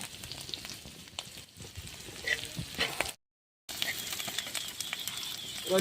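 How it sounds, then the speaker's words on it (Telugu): Fish deep-fries in hot oil, village style, giving a dense crackling sizzle with scattered pops, close and steady, broken by one brief cut to silence midway. "ఇక కొద్దిసేపు ఉంచి మంచిగా డీప్ ఫ్రై అయినాక తీసుకోవాలి"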